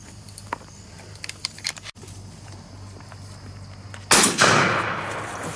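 Shotgun fire during an outdoor dove hunt: a single sharp, loud blast near the end, preceded by faint rustling and scattered footstep-like ticks in a quiet field, with no voices.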